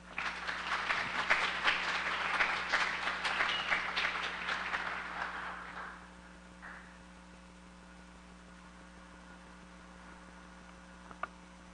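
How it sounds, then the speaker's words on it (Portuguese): Audience applause at an energy policy lecture in Alagoas, dense clapping that fades out after about six seconds, leaving a quiet room with electrical hum and a faint stray sound. "Uma salva de palmas para Bruno Macedo"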